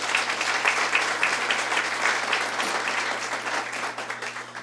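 A church congregation applauds during a sermon, a sustained, even roar of many hands clapping together that holds steady before easing slightly at the end.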